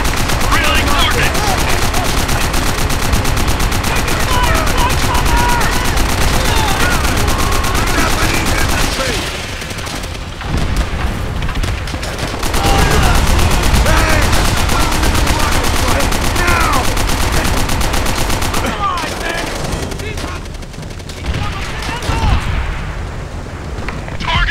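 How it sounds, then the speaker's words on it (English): Machine guns rattle in Call of Duty: World at War, heavy continuous automatic fire and booms filling the battle scene, briefly easing around the middle before resuming, with shouted voices mixed in. "Get on those MGs and tear them up!"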